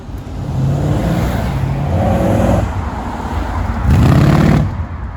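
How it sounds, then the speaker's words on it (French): A sports car engine rumbles at idle, then revs and pulls away, its growl swelling loudly toward the end. "Il y a la petite DB9 qui va partir"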